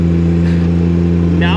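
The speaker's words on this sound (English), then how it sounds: "And you're gonna hear the engine rev up" A Haulotte 45XA man lift's engine runs loud and close with a steady, even drone, its pitch edging up slightly toward the end, while a person talks over it.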